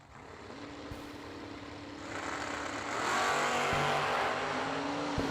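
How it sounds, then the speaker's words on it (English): 1970 Camaro drag racing at the New Year Nationals, lifting into big wheel stands, its engine roar building from a distant rumble to a loud, sustained rush over about five seconds, with no voices. "Once again, the Camaro pulling the big wheel stands."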